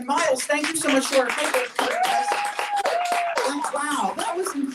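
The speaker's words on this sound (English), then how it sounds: "Give another round of applause" An audience applauds at a live Broadway talk show in a New York bar, with steady clapping running throughout beneath a loud voice speaking over it.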